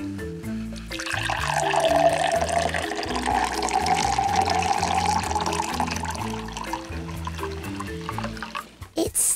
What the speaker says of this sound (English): I'm going to take this water and I'm going to add it to this glass.